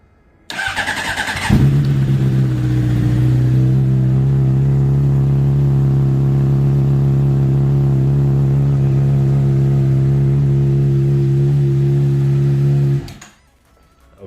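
A Honda CBR600RR sport bike with a Tocè exhaust cold-starts after a brief whir of the starter, then settles into a loud, steady, deep idle that runs unbroken for about eleven seconds before cutting off.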